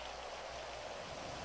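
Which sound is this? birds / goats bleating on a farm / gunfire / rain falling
rain falling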